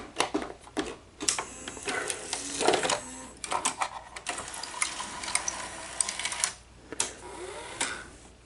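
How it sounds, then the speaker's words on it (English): The cassette loading mechanism of an NEC Super Beta VCR runs with a slipping belt, giving a close, quiet mechanical whirring with irregular clicks and ratcheting bursts that start and stop. "the belt for the loading motor, the loading motor for the cassette housing. The belt's slipping."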